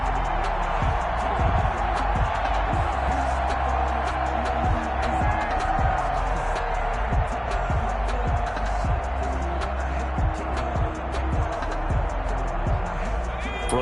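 A football stadium crowd at a Buccaneers versus Packers game keeps up a steady, roaring wash of noise throughout, while a commentator talks over it.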